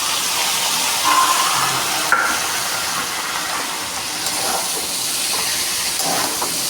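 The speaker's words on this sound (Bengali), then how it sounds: "এবার সেদ্ধ করে রাখা মোচা ওতে দেবো।" Boiled banana flower cooks in a pan of spiced oil, producing a continuous hiss and sizzle with a few stirring scrapes, fairly loud and close, with no voices.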